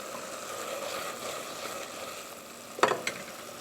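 Carrots cook in oil in a pan with a soft, steady sizzle, followed near the end by a couple of brief clattering stirs close by.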